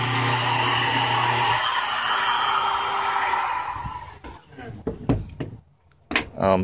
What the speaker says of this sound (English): I have a regular Dremel too, but this is nice because it has a little wand.